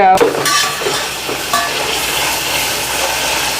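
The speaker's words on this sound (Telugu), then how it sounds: "ఆయిల్ పోసి ఉల్లిపాయలు గిల్లిపాయలు వేస్తారు కదే" Onions tipped into hot oil in a kitchen pan, an immediate loud sizzle with a few clinks of utensils at the start, settling into a steady close frying hiss for several seconds.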